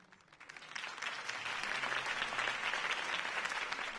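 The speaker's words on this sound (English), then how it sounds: "could have heard that applause" A video game crowd applauds steadily, with dense clapping swelling over the first second and then holding at a constant level.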